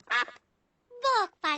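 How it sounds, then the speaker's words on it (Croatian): Cartoon ducks in a Peppa Pig episode quack in three short, bright, honking bursts, the first alone and then two close together after a pause, loud and near. "To su patkice."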